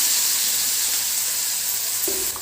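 Onions frying in a pan give a steady, close sizzle that runs unbroken for a couple of seconds, with a faint scrape near the end.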